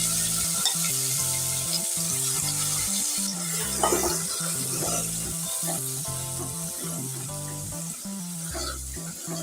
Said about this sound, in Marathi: असा मसाला भाजून घ्यायचा आहे